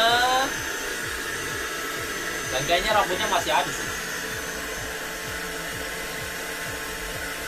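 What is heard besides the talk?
Mamibot UV Lite 100 vacuum cleaner sucking up hair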